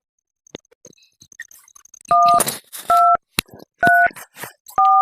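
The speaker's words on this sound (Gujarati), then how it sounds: "તું ભુરિયાને ફોન કર" Phone keypad dialing tones: four short, loud, clean two-tone beeps in an uneven rhythm, with faint key taps and handling noise between them and no talk.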